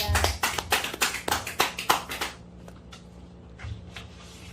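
A short burst of hand clapping at a seminary lecture, sharp and rhythmic for about two seconds, then trailing off into a few scattered claps in a quiet room.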